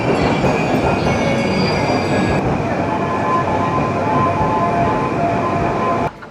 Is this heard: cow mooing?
no